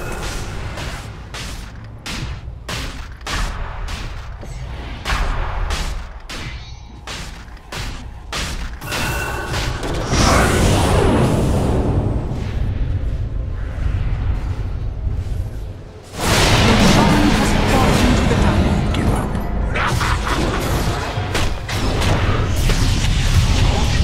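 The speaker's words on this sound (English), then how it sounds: "Dire's bottom tower is under attack." Dota 2 gameplay as a tower comes under attack, with repeated booming impacts, whooshes and crashing effects. Rapid hits come first, then a denser, louder stretch of battle noise with no talking.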